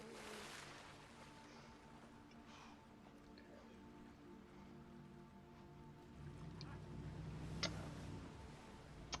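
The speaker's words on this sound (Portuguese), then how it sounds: "Persecución en lancha" A speedboat engine drones faintly through a boat chase in the video game Max Payne 3, a low hum with scattered ticks that swells slightly toward the end.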